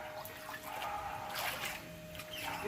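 Rainwater from the season's first rain trickles and drips near a home garden, a soft continuous watery patter with scattered drips, fairly faint and close, with no voices.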